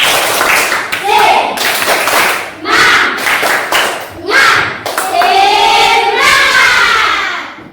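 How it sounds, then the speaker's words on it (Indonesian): A class group does a rhythmic clapping routine called tepuk semangat at the start of a guidance and counseling lesson, with bursts of patterned claps and voices chanting along throughout. "semua tepuk semangat."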